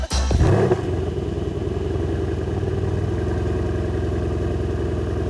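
A new car with keyless push-to-start fires up, a quick starter whir and catch in the first second, then the engine settles into a steady, even idle that carries on alone.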